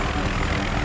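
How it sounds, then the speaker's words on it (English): A helicopter in the video game Battlefield 3 produces a brief, steady, dense engine and rotor rumble throughout. "look at that beautiful helicopter"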